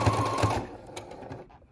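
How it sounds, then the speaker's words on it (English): A sewing machine back stitching a fabric mask, a fast mechanical whirring run that stops abruptly, followed by a few faint clicks and handling sounds. "I'm gonna go ahead and do our back stitch and then go crazy"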